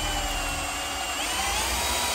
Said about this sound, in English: is just drilling holes for the pilots and so they'll have rounded corners.